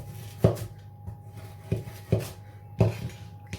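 A knife chops through meat-free meatball mixture on a board, four distinct cuts with a dull tap at each, close and fairly quiet with a steady faint hum beneath.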